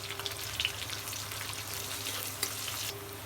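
Whole cardamom, cloves, cinnamon and bay leaf sizzle in hot oil, a steady close crackle of frying with sharp pops and spatters scattered throughout, loudest bursts near the middle and toward the end, with no voices over it.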